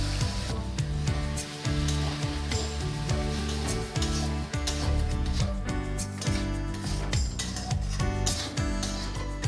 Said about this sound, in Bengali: এবার আমি সামান্য একটু জল দিয়ে মশলাটা কষে নেব।